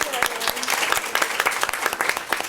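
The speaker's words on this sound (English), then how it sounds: "A warm round of applause for our fantastic panelists." A round of applause for panelists at a prison letter-exchange talk, fairly quiet and scattered, with distinct individual claps standing out over a thin crowd and some faint voices underneath.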